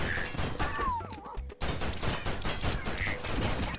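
Rapid Uzi gunfire in the video game Juicy Realm, dense continuous bursts of shots with clattering impacts, a brief gap midway, loud and close throughout.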